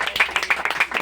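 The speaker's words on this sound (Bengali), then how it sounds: "হাততালি দাও" A small group claps in quick, uneven bursts for a top-scoring school student, the applause short and fairly close.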